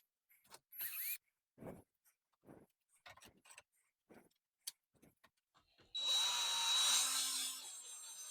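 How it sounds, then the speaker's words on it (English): A cordless power drill drives screws into an IKEA Sniglar wooden crib, with scattered close handling taps and clicks first, then a sustained loud whirring run that winds down toward the end. "I'm just going to go ahead and put these screws in there just like I did before"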